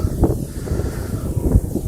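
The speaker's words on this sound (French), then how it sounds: "Nous sommes en altitude et il y a du vent." Wind gusts across barren high ground at 300–400 metres, buffeting the microphone with low rumbling blasts and a light rustle, steady and close throughout.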